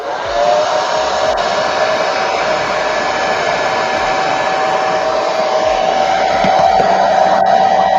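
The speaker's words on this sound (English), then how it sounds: "It means blow dryer." Blow dryer running steadily at a hobby bench during action figure customizing, a loud, close, continuous whooshing roar with a faint whine, unchanging throughout with no speech.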